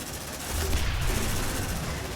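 Sentry guns firing in Aliens: Dark Descent, a dense, continuous burst of rapid automatic fire that holds steady and fairly loud for about two seconds.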